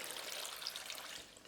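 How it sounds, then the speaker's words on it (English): Cold water runs steadily over about four pounds of mussels in a bowl, a close, continuous splashing trickle with no talking. "I'm going to just coat them in some water"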